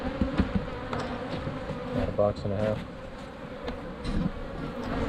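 Honey bees buzz inside an opened hive, a close, continuous drone with shifting pitch and brief louder passes, while someone speaks briefly over the swarm.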